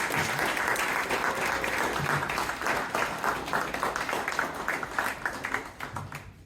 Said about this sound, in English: give them all another clap